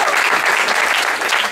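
Applause for police officers at a live German stand-up comedy show: a dense, steady wash of clapping from the audience, loud and continuous throughout the short stretch with no pauses.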